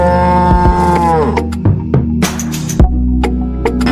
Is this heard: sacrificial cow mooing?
yes